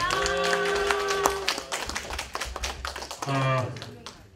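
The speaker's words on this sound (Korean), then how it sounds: "다시 한번 큰 박수 부탁드립니다" Attendees at an orientation event give a presenter a renewed round of applause, crisp overlapping claps heard alongside voices speaking over them.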